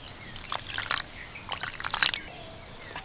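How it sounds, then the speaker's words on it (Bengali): A cup of water poured onto semolina in a large bowl: short trickling, splashing pours in a few bursts, close and soft, fading to quiet at the end. "তার সাথে দিয়ে দিচ্ছি এক কাপ জল"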